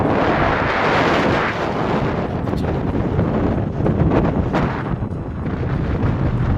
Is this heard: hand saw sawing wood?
no